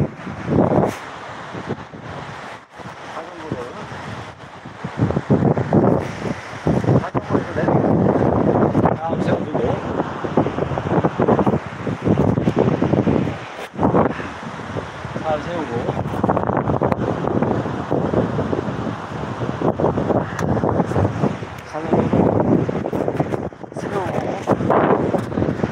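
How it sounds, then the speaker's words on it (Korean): Strong outdoor wind buffets the microphone near a stream on a bike ride, a continuous roaring gust noise with someone talking over it. "바람이 슈합니다"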